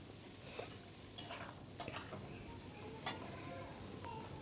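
Hilsa fish heads and potatoes fry quietly in a pan while a utensil stirs them, giving a soft sizzle broken by several sharp metallic scrapes and clinks.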